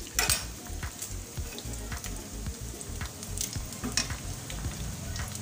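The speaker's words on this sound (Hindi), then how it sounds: "ये अच्छा सुनहरी गोश्त जो है ये लोहे के तवे पर ही होगा" Beef pieces frying on an iron tawa griddle, a loud, steady crackling sizzle with scraping stirs, close up, no voices.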